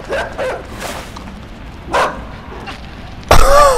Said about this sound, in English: That dog totally sees you